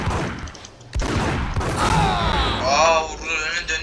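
Gunfire in the Max Payne video game comes in a short burst of sharp shots near the one-second mark, then continues as thumps and mechanical sounds under game music and a voice.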